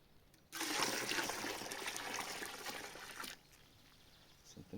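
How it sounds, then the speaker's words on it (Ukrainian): Water pours into a fermentation container of cherry mash for kirschwasser, a steady gushing stream lasting about three seconds, close and fairly loud, then cutting off to quiet. "Додаємо воду, щоб була повна."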